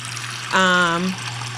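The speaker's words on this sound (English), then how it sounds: "just add a little bit more water" Water from a pot pours in a short gurgling trickle over simmering pork neck bones on the stove, with a steady low hum underneath.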